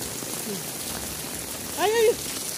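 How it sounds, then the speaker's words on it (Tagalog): Steady rain patters in a broad hiss while a voice speaks briefly and rises in pitch near the end. "sobrang lakas ng ulan"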